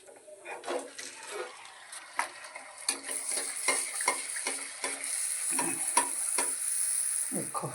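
Golgappa puris deep-frying in hot oil give a continuous bright sizzle, while a utensil clinks and scrapes in repeated sharp taps as they are turned and lifted out. Close by, with no talk.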